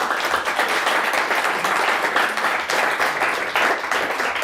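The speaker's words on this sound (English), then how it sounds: "Nice round of applause for both teams." A quiz-competition audience applauds both teams after a tight match, a dense, steady wash of many hands clapping at close range with no voices over it.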